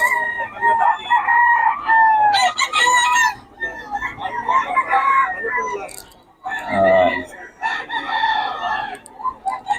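Roosters and hens offered by a seller from Batangas crow and cluck loudly and close by, with people talking over the birds throughout.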